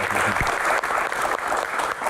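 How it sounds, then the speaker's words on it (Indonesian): An audience of students and viewers at a televised Q&A with the head of a doctors' association breaks into a brief, continuous round of clapping, loud and close throughout. "tepuk tangan."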